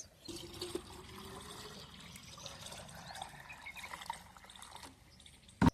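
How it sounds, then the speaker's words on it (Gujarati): Water pouring from a farm water tank into a metal water pot to fill it, a faint steady trickling stream with small splashes, ending in a louder knock. "પહેલાં આપણે પાણીની બહેણી ભરી લેવી"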